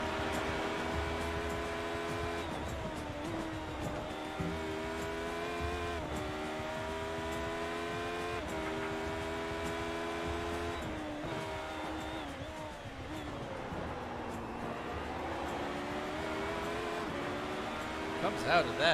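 Race car engine in iRacing's Kamel GT EVO at Imola, a steady harmonic drone with shifting pitch as it brakes for the hairpin in second gear and eases back onto the throttle, under continuous commentary.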